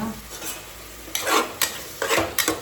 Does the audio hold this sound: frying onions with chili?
yes